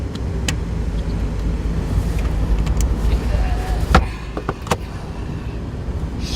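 A 2016 Mazda MX-5 Miata with an automatic sport-shift transmission drives and accelerates, its engine and road noise a steady low rumble from inside the cabin, with a few sharp clicks and knocks over the top.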